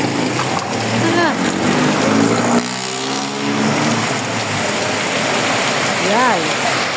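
Heavy rain pours down steadily in a broad, loud wash as it keeps getting stronger, with Filipino voices talking over it nearby.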